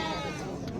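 Lambs at a livestock market give a brief bleat, close and fairly loud, over dense background noise.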